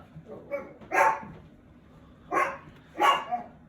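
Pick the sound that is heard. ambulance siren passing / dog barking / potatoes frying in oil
dog barking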